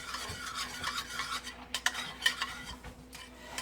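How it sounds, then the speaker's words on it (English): A spoon stirs cornstarch into a stir-fry sauce in a pan, giving quiet, steady scraping and swishing with small clinks of utensil on metal, close and alone without voices. "So just give it a good stir till all your cornstarch dissolves."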